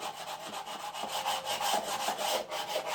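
Sandpaper rubs rhythmically against the wooden hull of a ship model in quick back-and-forth strokes, a close, soft scratchy rasp repeating a few times per second.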